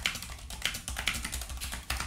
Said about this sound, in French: La particularité des Switch rouges, c'est qu'ils vont pas faire énormément de bruit et c'est assez silencieux.